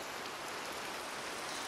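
Rain in the video game Minecraft, a steady soft hiss of falling drops, even and unbroken, faint and without talk.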